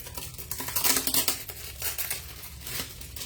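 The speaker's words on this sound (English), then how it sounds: "now you're gonna see me cut more paper" Scissors cutting cardstock paper for a handmade birthday card, close-up crisp snips and papery rustling in quick irregular bursts, with no talking.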